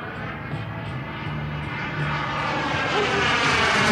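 A model Avro Vulcan bomber flies a vertical split maneuver at an air show, its engine whine swelling steadily louder as it passes overhead, with no talk.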